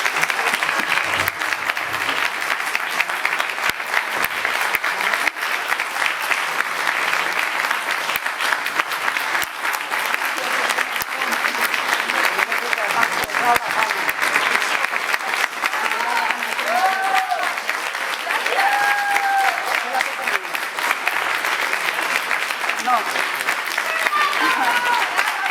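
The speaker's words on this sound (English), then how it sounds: "Big round of applause." Sustained, dense applause from a press conference audience at an RTVE gala event for the films La Ternura and Chinas, loud and steady throughout with faint voices and a few tonal sounds rising briefly near the end.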